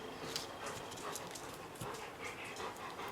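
A dog panting and shuffling nearby indoors, with quick rhythmic breaths and soft movement noises throughout, fairly faint.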